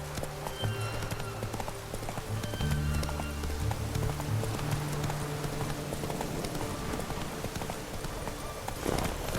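Horse galloping in The Witcher 3: Wild Hunt, a steady rapid clip-clop of hooves that runs continuously under game music and ambience.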